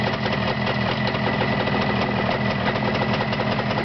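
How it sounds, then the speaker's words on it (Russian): A motor fitted with a gearbox and a newly installed blade runs steadily, a loud, close, continuous mechanical drone with a fine rapid vibration and no pauses. "Ну, и мотор тихонечко работает."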